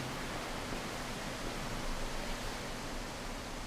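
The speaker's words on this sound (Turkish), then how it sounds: "Dışarıdan böyle rüzgar sesleri geliyor. Bir uğultu var." A steady, dull rushing hum of wind in the video game Slender: The Arrival fills the space without pause, even and muffled, with no voices over it.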